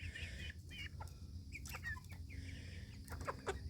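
Hens cluck in short, overlapping bursts over a constant low farmyard rumble at Fort Christmas, several birds close by and fairly loud.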